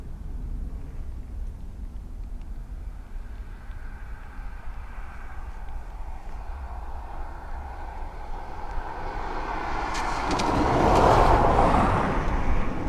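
A jet airliner at Dublin Airport rumbles steadily in the distance, then swells into a louder roaring pass near the end as it draws closer.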